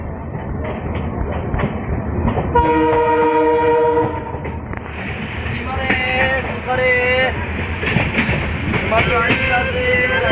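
A passenger train pulls out of Bakhtiyarpur station on the Rajendra Nagar to Guwahati route, with loud, steady rolling rumble and sustained horn blasts rising over the noise.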